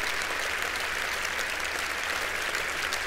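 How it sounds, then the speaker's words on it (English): A large audience at a live Lufthansa event claps continuously, a dense, even wash of applause that holds steady for several seconds without voices. "You can't just slow down with your applause just because there are still people moving up to the stage."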